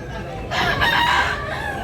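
A single rooster crows loudly and close at a chicken market in Tabunok, Cebu, one brief call over a low background murmur.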